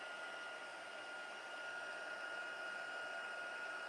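A heat embossing tool blows hot air in a steady, even whoosh with a faint whine, running continuously and fairly quietly at close range while embossing powder melts on a stamped card.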